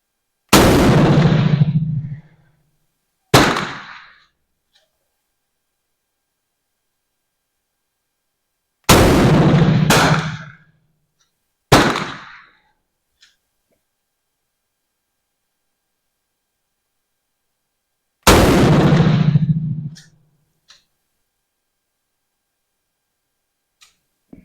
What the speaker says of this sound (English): we got 10 shots in the fresh target